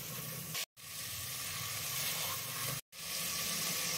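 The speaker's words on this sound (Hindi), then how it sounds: "गोश्त को मसालों में अच्छी तरह से भून लेना, लो फ्लेम में रख के" Beef sizzles with ground spices, coriander, chilli powder and turmeric, in a pot over a low flame, a steady loud hiss broken twice by abrupt silent gaps; no talking.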